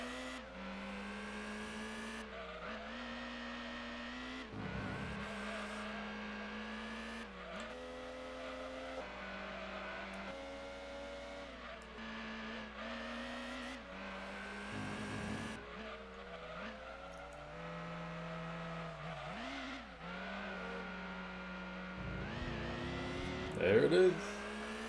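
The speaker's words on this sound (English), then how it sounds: "I hear that Miata coming." Mazda Miata race car in the Gran Turismo 2 video game, a buzzing engine whose pitch sweeps up and down through gear changes as it laps, with a voice talking over it.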